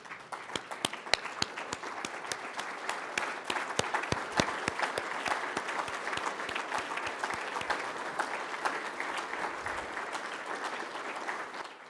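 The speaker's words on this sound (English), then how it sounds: "everybody's deserving of a standing O and another round of applause" A big crowd at a collision industry awards breakfast at SEMA gives a standing ovation, clapping continuously and enthusiastically, dense and sustained, with a few sharper individual claps standing out near the start.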